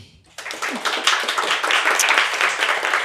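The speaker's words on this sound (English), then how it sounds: "let's give them all applause." Audience applause for panel discussants at a discussion on community crisis preparedness, a dense burst of many hands clapping that starts suddenly after a brief quiet and holds steady and fairly loud.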